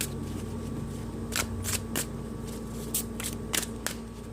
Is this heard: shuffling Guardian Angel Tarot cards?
yes